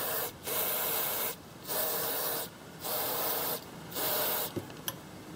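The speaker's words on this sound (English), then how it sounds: "What I do is with the spray, I blast everything." Degreaser sprayed onto Tamiya Grasshopper differential parts in four long hissing bursts of about a second each, with short pauses between, followed by a couple of small clicks near the end.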